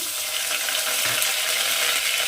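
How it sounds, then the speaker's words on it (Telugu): Onions frying in a pan for a mutton and eggplant dish hiss in a steady, close, dense sizzle, with a faint stir or two underneath. "ఆనియన్ వేసి కలుపుదాము. ఈ ఆనియన్ బ్రౌన్ కలర్ రావాలండి."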